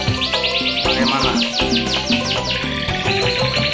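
Many canaries at a breeding farm chirp and trill loudly and continuously, overlapping rapid tweets and warbling song from several birds nearby, with no talking.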